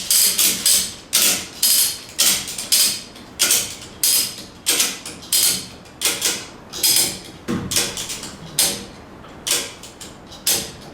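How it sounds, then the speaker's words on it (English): Ratchet strap being cranked to tension a slackline at a bouldering spot, loud rapid bursts of metallic clicking and creaking repeating in an even rhythm, close up with no talk. "This way you can get it relatively tight before you even start with the ratchet. And then just crank it up."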